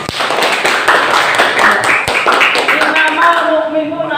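Classroom of students clapping hands together during a lesson on brotherhood, a loud close rattle of many claps that thins out toward the end as a voice comes in.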